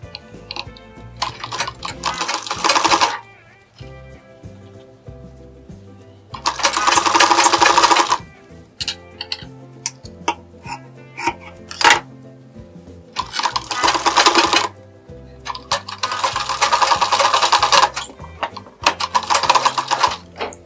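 A sewing machine stitches a blouse lining in several bursts of rapid, loud needle chatter separated by pauses, with softer handling clicks between runs.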